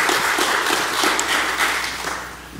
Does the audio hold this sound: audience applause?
yes